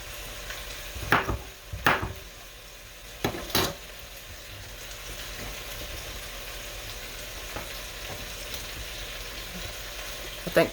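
Oxtail meat fries in a pan with a low continuous sizzle, broken by a few sharp scrapes and clacks of a utensil stirring against the pan.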